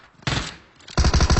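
Gunfire in PUBG Mobile: a short loud burst, a brief lull, then a fast run of evenly spaced heavy shots close by. No voices.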